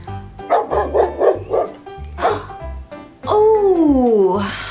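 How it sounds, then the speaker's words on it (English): A dog barks several times in a quick rhythmic burst, then once more, followed by a long whining yelp, close and loud. "it's a dog."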